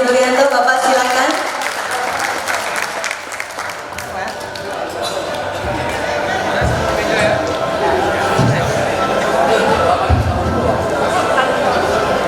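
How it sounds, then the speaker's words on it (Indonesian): Enthusiastic crowd applause at a formal Indonesian ceremony welcoming a newly installed organisation chairman, sustained clapping mixed with crowd chatter and a voice speaking over it, fairly loud and continuous. "Berikan tepuk tangan yang paling meriah untuk Bapak Darmadi Duryanto."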